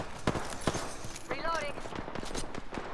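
Rapid bursts of gunfire ring out in a video game shootout, sharp repeated shots in quick rhythm with a brief ringing tone in the middle, while people talk underneath.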